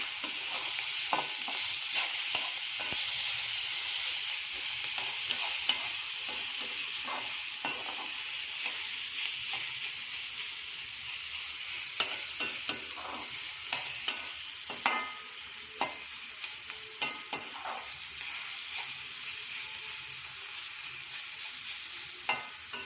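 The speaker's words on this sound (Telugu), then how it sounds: "ఇప్పుడు మనం టమాటా ముక్కలు వేసుకుందాం. ఇది కూడా బాగా ఆయిల్లో ఫ్రై అవుతుంది." Tomato pieces frying in oil in a pan, a steady hiss of sizzling broken by repeated scraping strokes and clicks of a stirring spoon.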